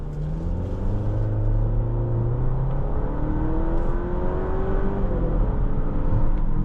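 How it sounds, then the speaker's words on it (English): A Volvo V60 Cross Country B5 accelerates with a steady engine hum and rising rev tones climbing smoothly over several seconds, heard from inside the cabin with moderate road rumble underneath. "the acceleration is more than enough. This B5 motor does a good job of getting this car to move"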